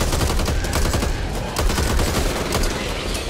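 Heavy, continuous gunfire against zombies in Back 4 Blood, a loud, dense barrage of overlapping shots without pauses, close and relentless.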